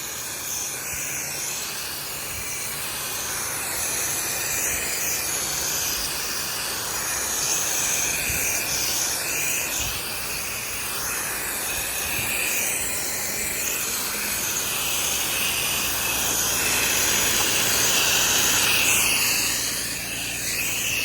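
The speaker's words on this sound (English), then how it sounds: "we take the time to rinse down the grass anyway" A pressure washer rinses down a lawn after house washing, giving a steady, loud broadband hiss of high-pressure water spray that runs continuously with slight surges and no talk.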